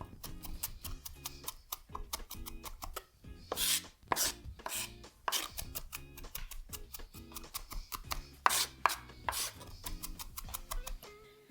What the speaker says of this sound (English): And then if you're going for texture, chop it up now.